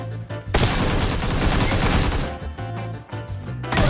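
Rapid bursts of in-game gunfire from PUBG Lite, with sniper rifle shooting, fill most of the stretch as loud, dense volleys broken by brief pauses.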